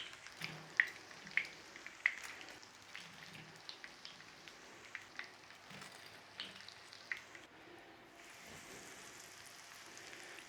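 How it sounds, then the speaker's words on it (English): Glamorgan sausages, the traditional Welsh Selsig Morgannwg, frying in a pan with a steady soft crackle and hiss, a few sharper pops near the start, and an even sizzle running throughout with no talk. "And then just in with as many sausages as you've got, cook them off"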